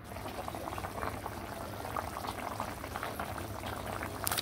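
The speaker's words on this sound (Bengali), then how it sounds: "এদিকে এটা আমার নিরামিষের তরকারি প্রায় সিদ্ধ হয়ে আসছে।" A vegetable curry with sweet gourd boils in a pot, giving a steady, continuous bubbling and simmering hiss at moderate volume throughout, with no one talking.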